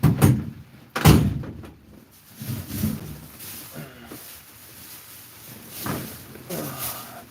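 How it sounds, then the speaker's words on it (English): A door is shut with a sharp, solid slam near the start, followed by softer thuds and handling noises at a moderate distance. "Shut this door."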